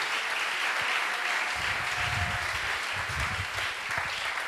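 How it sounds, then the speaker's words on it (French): A church congregation at a Sunday service claps together in praise, a dense, continuous round of applause with no speech over it. "Applaudissons pour la gloire de ces dieux."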